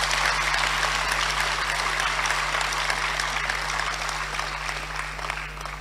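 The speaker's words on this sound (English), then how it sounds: "Let's give our national chairman another round of applause." An audience gives steady, sustained applause for the NDC national chairman at a state-of-the-nation address, a dense wash of clapping that fades slightly over time, with a low electrical hum underneath.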